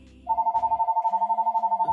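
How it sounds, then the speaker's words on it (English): Phone ringtone trilling rapidly and steadily in a loud, close warble that starts abruptly after a brief murmur and continues for nearly two seconds. "Excuse the phone."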